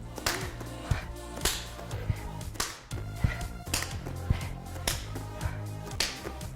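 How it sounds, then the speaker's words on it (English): Sharp, evenly spaced hand claps from clapping push-ups in a bodyweight workout, each slap landing roughly every half second to a second over steady, loud background music. "I want to show push up with a clap"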